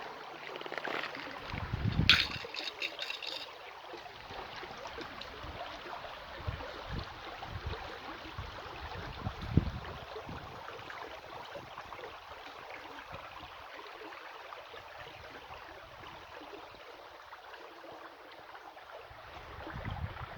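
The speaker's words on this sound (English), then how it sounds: "there is a beautiful susurrus of leaves right now" Leaves rustle outdoors in a steady soft wash of breezy noise, faint and continuous, with a few brief louder knocks and handling bumps early on.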